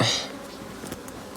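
Honeybees buzz in a dense, steady hum over a brood frame lifted from an open hive, loud and close, with a brief sharper tone at the very start.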